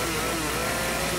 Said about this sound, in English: Is this really full chainsaw mode?